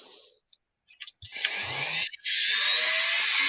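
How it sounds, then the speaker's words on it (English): A power drill whirring in high-pitched bursts, stopping and starting a few times with brief gaps, then running steadily, close and fairly loud, no talking. "sorry, that's my drill"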